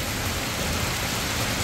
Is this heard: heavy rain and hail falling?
yes